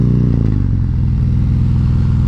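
A 2017 Harley-Davidson Freewheeler trike with its 107 engine runs at close range, a loud, steady, throbbing rumble that eases slightly from a brief rev into an even idle-like beat.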